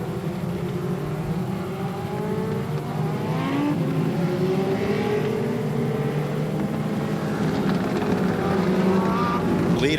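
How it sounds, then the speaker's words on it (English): Legend race cars circle an oval track at the Waterford Speedbowl during a feature race, engines droning steadily with rising and falling pitch as cars pass along the back straightaway, loud and continuous. "We have another car going around out there on the back straightaway"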